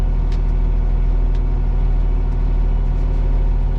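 An old payloader with air brakes idles loudly and steadily, its diesel engine running at a constant low throb while the air pressure builds, with a few faint ticks and clicks on top.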